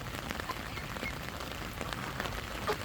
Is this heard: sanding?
no